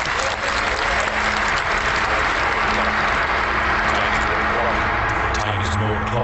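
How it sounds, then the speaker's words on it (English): An audience at a digital event breaks into loud, continuous applause, a thick steady roar of clapping with some crowd murmur and voices mixed beneath it. "A round of applause."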